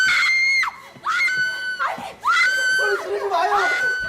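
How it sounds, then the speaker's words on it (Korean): A child screams loudly in a Korean mystery thriller film, several long, shrill shrieks in quick succession with brief gaps between them, close and dominant. "계속해서 소리를 지르는 아이를 진정시키기 위해 쫓아가는데"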